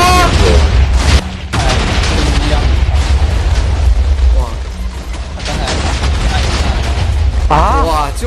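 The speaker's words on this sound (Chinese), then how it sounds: "给他们放个烟火" Fireworks bursting in the video game Minecraft, set off at a villager's mansion for a New Year celebration: a dense run of loud booms and crackling pops that overlaps game sounds and voices.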